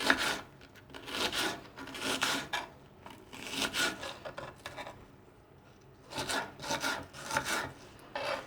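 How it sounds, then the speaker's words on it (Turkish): A kitchen knife slices onions into thin half-moons for an oven-baked sea bass dish, with quiet rasping strokes in short clustered bursts separated by brief pauses, close by and with no talking. "Soğanlarımı şöyle bir böleceğim. Sonra yarım ay şeklinde çok küçültmeyeceğim."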